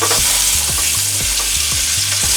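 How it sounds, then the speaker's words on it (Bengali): Eggs frying lightly in hot oil for an egg korma, a steady close sizzle with repeated scraping stirs of a spatula at a regular rhythm, no voices. "ডিমগুলোকে একটা একটা করে আমি তেলের মধ্যে দিয়ে দিয়েছি। এবার হালকা হালকা করে ফ্রাই করে নেব।"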